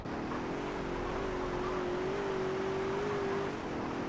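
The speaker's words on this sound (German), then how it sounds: "Die Karre ist so langsam, ey." A car engine drones steadily while driving in GTA San Andreas, a continuous mid-pitched hum that rises slightly in pitch and holds before easing off, loud and close throughout.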